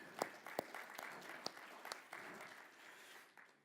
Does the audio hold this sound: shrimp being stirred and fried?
no